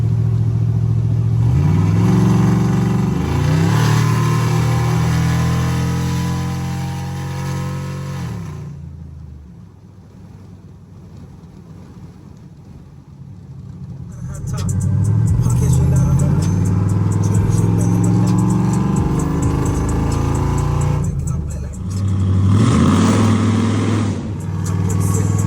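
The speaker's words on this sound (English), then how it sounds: "hopefully I can get a couple clips right here of driving the truck now that it's running pretty stinking good" A truck engine drones steadily while driving, its pitch rising repeatedly as it pulls through the gears, loud and close with a quieter lull midway.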